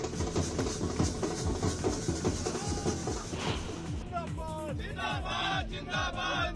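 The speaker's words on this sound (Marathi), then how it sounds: "कार्यकर्त्यांचा जल्लोष" A crowd of BJP party workers celebrating an election win with drums, loud cheering and shouting over a steady pounding drumbeat, joined late by high whistles or horns, dense and continuous.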